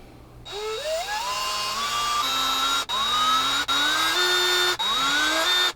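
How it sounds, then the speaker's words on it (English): A power drill tapping screw holes in wood for Gotoh guitar tuners whines up to near full speed again and again, about five rising bursts with brief cuts between them, close and loud. "I'm just pushing, tapping it, and just getting the drill up to around max speed."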